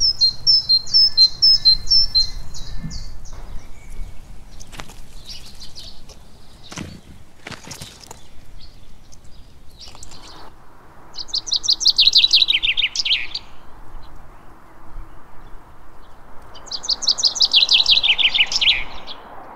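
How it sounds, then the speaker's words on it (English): Songbirds singing in spring: bright, repeated trilling phrases ring out in bursts with pauses between, loud and fairly close, over a faint background with a few soft rustles and thumps. "The long and loud vocalizations of birds are referred to as song."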